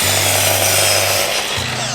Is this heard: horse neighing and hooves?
no